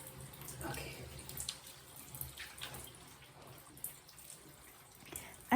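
Faint running water trickles and splashes as shampoo is rinsed from curly hair, soft and uneven with small spatters and drips.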